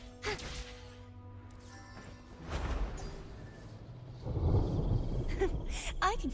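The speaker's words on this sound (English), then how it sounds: "That sound. That's a thunder" Thunder rumbles and cracks in the game Wuthering Waves, a deep crash swelling under game music and ambience, with a voice speaking briefly over it.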